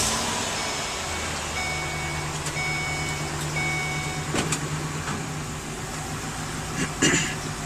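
A Ford E350 Marathon van idles after starting, with a series of evenly spaced electronic reversing beeps repeating over the low engine hum, fairly quiet and close.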